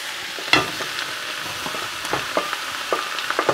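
Meat for a mixed devil dish of kingfish, mutton, chicken and prawn is stirred in a pan, with sharp scraping spoon strokes over a steady background sizzle, clear and close with no voices.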